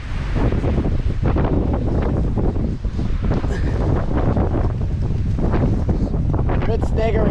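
Strong, gusty wind roars outdoors, buffeting the microphone loudly and continuously, with a person talking under the rumble.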